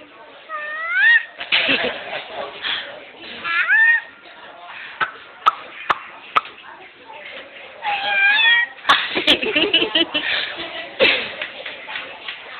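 A person imitates a cat's meow several times, rising and falling mews, mixed with talking and a few sharp clicks and knocks.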